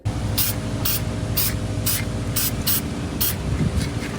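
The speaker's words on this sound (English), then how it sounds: "So I guess we are on the first coat of primer again." Spray can laying a first coat of primer over a rust repair on a car, in about seven short hissing bursts roughly half a second apart, fairly close, with a steady low background rumble underneath.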